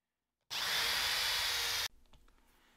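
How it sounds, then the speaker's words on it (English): A power drill fitted with a Forstner bit whines loudly and steadily for over a second as it bores into wood, then cuts off, leaving quieter handling noises. "I'm going to go ahead and use this Forstner bit because it works really well."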